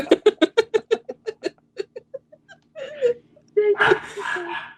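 A dog gives a quick series of sharp yips that taper into soft whimpers, then lets out a couple of louder, drawn-out whines. The sounds are close and clear, and no one speaks.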